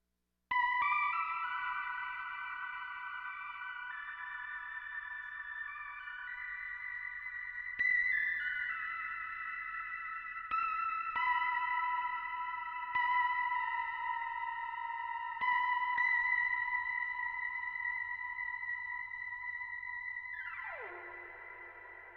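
A Moog synthesizer element drenched in ambient reverb sounds alone as layered, sustained tones that swell in repeated phrases, then sweep down into a fading tail at the close.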